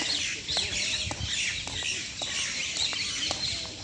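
Many birds, including mynas, parrots and pigeons, call in a busy overlapping chorus around a green residential area in the morning, loud and continuous, chirps and squawks close by.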